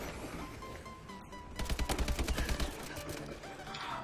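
A short burst of rapid automatic gunfire in Call of Duty Advanced Warfare, about a second of evenly spaced shots amid a busy game soundscape, with scattered fainter shots around it.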